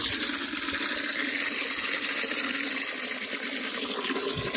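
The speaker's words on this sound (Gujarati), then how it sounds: "ખેતરની અંદર ફેરથી આપણે પાણી ભરવા આવ્યા" Water gushes steadily into a container from a farm borewell, a continuous bright splashing rush heard up close with no talking over it.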